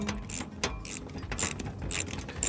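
Ratcheting and metallic clicking as bolts are tightened on a Ford Bronco roof rack, a quick run of close, uneven ratchet clicks with light metal handling and no talking.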